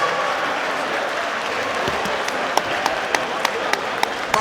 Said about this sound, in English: let's give both of these men a massive round of applause